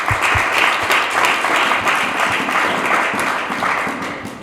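Church congregation applauding and cheering at length in praise to God after a prayer during a French-language sermon, dense steady clapping that fills the whole stretch and fades slightly at the end.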